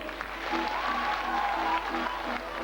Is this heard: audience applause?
yes